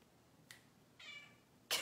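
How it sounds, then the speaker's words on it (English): A house cat gives a couple of short, quiet meows with gaps between them, and a louder sound cuts in at the very end. "The cat just said, meow."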